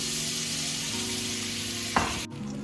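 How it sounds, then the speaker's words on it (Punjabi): Butter sizzles steadily in a pan over a low gas flame, ready for tomato puree for pasta, with a sharp clatter near the end and no voices. "ਪਿਊਰੀ ਨੂੰ ਤੜਕਣ ਦੇ ਲਈ ਸਭ ਤੋਂ ਪਹਿਲਾਂ ਆਪਾਂ ਬਟਰ ਪਾਵਾਂਗੇ"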